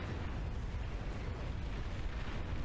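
Bombs exploding during a bombing run in a real-time strategy video game: a steady, dense rumble of blasts running through the whole stretch, loud and continuous with no talking.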